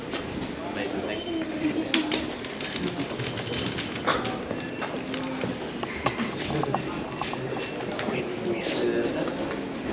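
A London Underground train bound for Morden runs through Colindale station with a steady rumble and clatter. People talk throughout.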